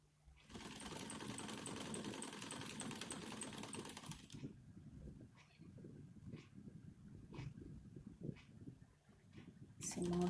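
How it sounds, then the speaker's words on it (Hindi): A sewing machine stitching folded sofa cover fabric: a steady close whirring run for about four seconds, then quieter intermittent stitching with light clicks, and someone speaking at times. "मोड़कर कुछ इस तरह से सिलाई लगा लूँगी।"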